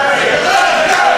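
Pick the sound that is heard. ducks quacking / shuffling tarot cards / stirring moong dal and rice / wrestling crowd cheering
wrestling crowd cheering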